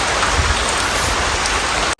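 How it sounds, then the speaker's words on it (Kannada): Steady rain falls outdoors, a dense, continuous hiss of drops on surfaces that stays even and fairly loud throughout, then cuts off abruptly at the very end. "ಮಳೆ ಬರ್ತಾ ಉಂಟು"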